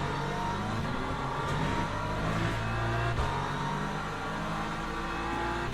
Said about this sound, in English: There's a hypercar coming through up there as well.